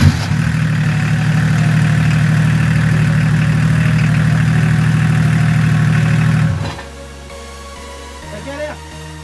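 BMW 325 tds diesel engine, with the glow-plug preheat light still on, cranking and running with a loud, steady low rumble for several seconds before cutting out abruptly, leaving quieter background sounds.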